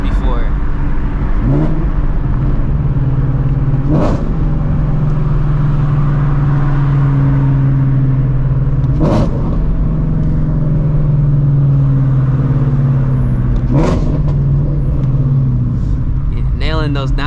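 A straight-piped Shelby GT350 drives through city streets at night, its loud engine droning steadily and rising and falling through downshifts, with sharp blips at intervals; the car is heard from inside, close and continuous.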